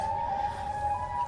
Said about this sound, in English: I hear Siren Head noises